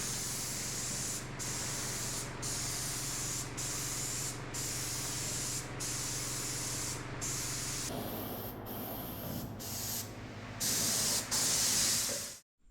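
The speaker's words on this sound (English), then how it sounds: "he sprayed the black paint" Black paint sprayed onto the wheel tubs of a Nova build, a steady close hiss running nearly continuously with brief breaks, changing tone partway through as the nozzle moves, loud with no talk.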